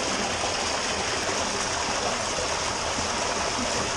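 Steady rush of running water flowing through a drain, a dense, continuous hiss and gurgle that stays even and close throughout with no voices over it.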